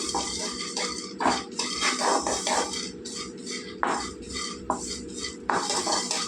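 Watermelon seeds roast in a pan while a utensil scrapes and stirs them, giving close, repeated clinks and scrapes with brief sharp knocks over a steady low rattle.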